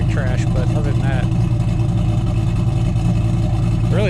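A 2007 Shelby GT500 with cams, Kooks long-tube headers, an X-pipe and stock mufflers rumbles loud and deep at a steady idle, while people talk over it.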